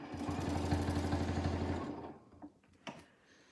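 A sewing machine stitches a Christmas stocking with a fast, even mechanical hum for about two seconds, then stops, and a couple of soft handling clicks follow as the fabric is turned.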